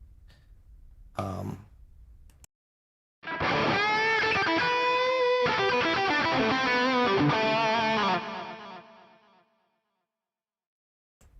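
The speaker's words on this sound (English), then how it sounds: "I just turn on a delay here" A distorted electric guitar with a delay effect plays a bright, sustained phrase whose notes repeat and smear into trailing echoes, fading out gradually after a brief noise at the start.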